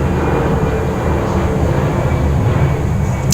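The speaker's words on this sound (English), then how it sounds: "I'm in my house, so yes, a plane is going through." An airplane passes overhead, heard from inside a house as a steady, continuous low rumbling drone that holds at a fairly loud level throughout, with no voices over it.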